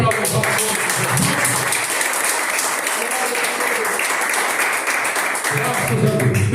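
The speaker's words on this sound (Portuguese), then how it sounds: "As palmas são bem fortes para louvar o nome de Jesus." Church congregation clapping strongly in praise during a worship service, a loud sustained burst of applause that fills the room from start to finish.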